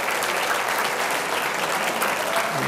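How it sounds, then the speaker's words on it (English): Steady applause from a large university audience at UMBC, dense clapping that holds at an even, loud level throughout with no pauses. "Give yourselves a round of applause."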